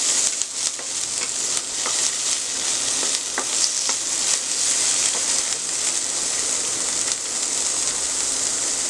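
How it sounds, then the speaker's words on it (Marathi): Paneer and peas stir-fried in a pan over a full flame, with a steady bright sizzle throughout and scattered scraping clicks from the spatula; no voices. "फुल गॅस असल्याने आपण हे सारखं परतवत राहणार आहोत"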